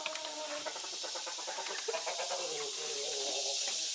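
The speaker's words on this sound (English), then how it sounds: "I hear the chickens up front." Busy barnyard chatter of chickens clucking, with scattered bird calls and a steady hiss behind, fairly close and continuous.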